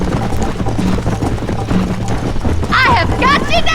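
A horse gallops in Red Dead Redemption on Xbox Series, its hoofbeats a steady loud clatter under continuous game sound, while a player talks over it and a short vocal sound rises near the end.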